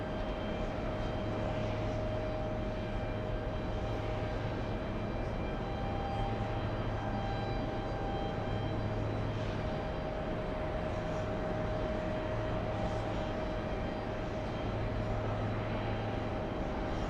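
Small Cape Air airplane flying in to land, a distant steady propeller drone with a faint constant whine, low and even throughout.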